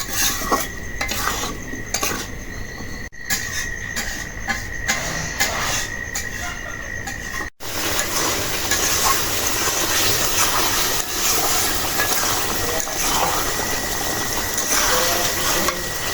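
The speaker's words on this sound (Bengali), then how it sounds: "মশলার সাথে আলুগুলি ভালো করে কষাই নিব" Potatoes are stir-fried with spices in a pan while a spatula scrapes and clatters steadily against the metal over a continuous sizzle. The sound is close and busy, with a brief break midway.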